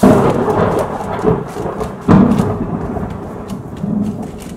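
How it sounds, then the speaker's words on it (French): Thunder rumbles through an autumn storm with rain falling, deep rolling booms swelling twice over steady patter, heard from indoors during cooking. "Hop, il y a encore de l'orage."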